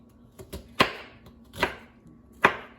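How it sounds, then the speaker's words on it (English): A knife chopping onion on a cutting board for salmon stew, a handful of sharp, close chops at uneven intervals, with quiet between strikes. "let me chop this because I want to get enough onion in it."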